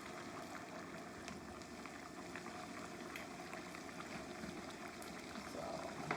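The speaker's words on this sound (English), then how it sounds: "we got a wonderful brown gravy cooking up here" Brown gravy with beef short ribs simmers on the stove, a faint, steady low bubbling that stays even throughout with a slight swell at the end.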